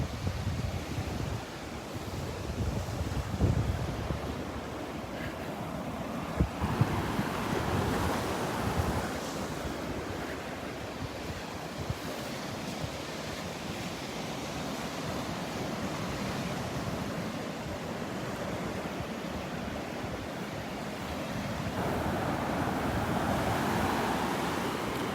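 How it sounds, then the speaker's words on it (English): Small ocean waves break over a sandbar at Delnor-Wiggins beach on a calm morning with an outgoing tide, a steady soft wash of surf with wind noise across the microphone and no voices. "Still some little waves breaking over the sandbar, but nothing much."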